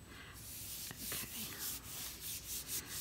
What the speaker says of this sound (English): and then I'm burnishing again, and then peeling it up